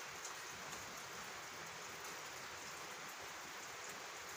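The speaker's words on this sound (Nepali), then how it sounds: "फिसफिस पानी पर्दैछ" Light drizzle falls in a home courtyard, a faint, even patter of fine raindrops that continues softly throughout with no voices.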